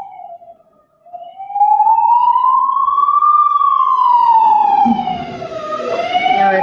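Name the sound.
siren passing outside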